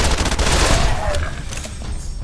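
A rapid burst of fully automatic fire from the assault carbine in Fallout: New Vegas, loud and close, the shots blurring into a dense rattle that fades into a short echoing tail.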